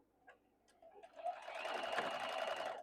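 A sewing machine stitches a quilt block pieced like a log cabin, starting after a few soft taps and building into a steady close whir that runs to the end.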